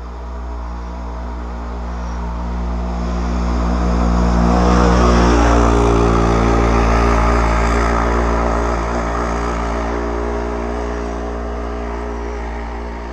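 An off-road UTV engine, a turbo RZR-type side-by-side, revs hard while climbing a sandy, rocky hill, its loud droning roar swelling to a peak midway and then slowly fading as it crests, heard at a distance with no talk.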